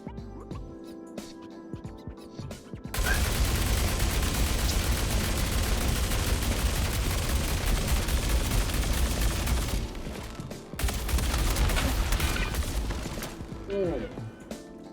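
Sustained light machine gun fire from the Fresnel Volt LMG in Star Citizen, a loud continuous burst lasting several seconds, a short break, then another long burst and trailing shots.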